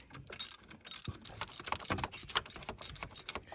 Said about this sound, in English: I'll go ahead and tighten down these 3 15mm bolts